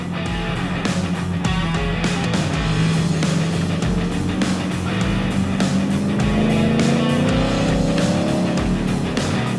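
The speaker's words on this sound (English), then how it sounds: "That sound is a rumbling V8 and it's going to be under the hood of this, the brand new Ford Raptor R" Brand-new Ford Raptor R pickup with a 5.2-liter supercharged V8, a continuous deep engine rumble building steadily as the revs climb, loud and close with no talking.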